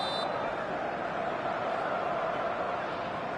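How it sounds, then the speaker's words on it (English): A video-game football stadium crowd roars as a dense, steady wash of noise at a night match, with no distinct chants or voices standing out. "the matchday noise at this place is truly special"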